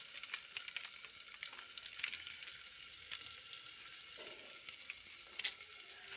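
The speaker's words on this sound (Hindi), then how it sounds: "इधर मैं तड़का भून रही हूँ, बहुत अच्छे से बाकायदे से भूनूंगी" Tadka spices fry in a pan for a jackfruit curry, giving a continuous close sizzle with crackles and faint stirring scrapes. The steady hiss is low in level and no one speaks.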